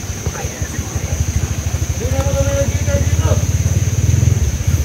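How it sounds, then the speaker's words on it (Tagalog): Motorcycle engines idle and throb nearby with a rapid, steady low pulsing that slowly grows louder, while people talk over them. "May mga motor dyan."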